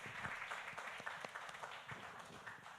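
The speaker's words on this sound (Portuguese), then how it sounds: "vamos aplaudir o Senhor uma vez mais" Congregation applauding during a church service, a dense, steady wash of many hands clapping at moderate distance, fairly faint, with no speech over it.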